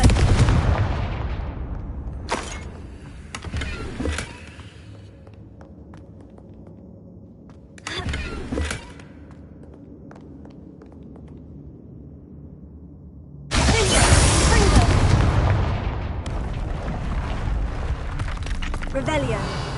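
A Confringo fire spell blasting in a Harry Potter wizarding video game, heavy roaring explosions that burst loudly then decay into rumbling debris, recurring in three big hits with quieter crackles in between.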